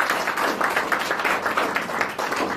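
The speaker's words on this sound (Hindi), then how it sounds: "तो एक बार जोरदार तालियों से आप स्वागत करिए" A crowd at a marketing business meeting claps enthusiastically, a full, continuous wash of applause holding steady throughout.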